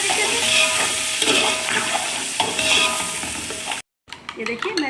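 Grated carrot and capsicum stirred in a hot pan with oil, a close steady sizzle broken by repeated spatula scrapes and clinks, cutting out abruptly near the end before brief clatter resumes.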